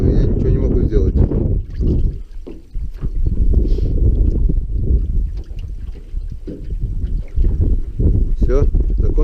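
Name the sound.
wind blowing on the camera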